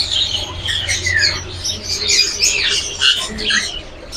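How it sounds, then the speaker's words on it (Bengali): Cockatiels in a pet bird shop in a Dhaka bird market, chirping and squawking repeatedly in overlapping bursts, fairly close and clear, with no talking. "আপনি এখানে দেখতে পাচ্ছেন হলো ককাটেল।"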